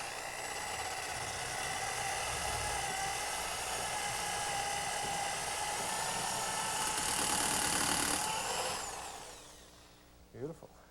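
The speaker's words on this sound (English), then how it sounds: "a 3/8 brad point drill bit with a piece of tape on the end of it to serve as a stop, and drill the hole into the piece of wood" A drill with a 3/8 brad point bit, taped as a depth stop, bores a hole into a piece of wood: a loud steady whirring drone that rises slightly before spinning down and stopping, followed by a brief clatter.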